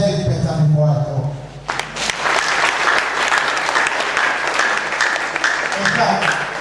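A workshop audience breaks into applause after a stretch of talking, clapping steadily and fairly close for several seconds with voices carrying underneath.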